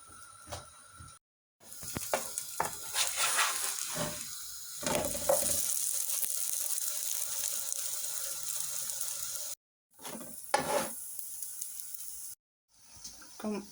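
Meloui flatbread frying in oil in a large pan, a steady hiss and sizzle that swells and fades with brief silent gaps and occasional clatter from handling.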